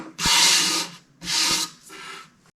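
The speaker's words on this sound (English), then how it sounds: "So I'm just gonna knock that down with my sanding sponge so I have a little bit more of a smooth surface." Three close strokes of a sanding sponge rubbing over rough, milk-painted wooden drawers of a china hutch, the first two long and firm, the last lighter, with short pauses between.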